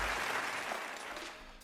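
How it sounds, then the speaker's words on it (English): Brief burst of audience applause for a woman being introduced, dense clapping that fades slightly over under two seconds. "let's give her a round of applause"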